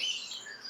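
A tiny parrot finch gives thin, high, continuous chirping close by, faint and steady with no talk over it.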